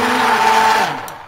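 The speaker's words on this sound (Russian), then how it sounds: "Сейчас я это все блендерю." A kitchen blender whirs steadily while pureeing a diet vegetable soup of cauliflower in an old saucepan, a loud, even motor drone that winds down near the end of the brief burst.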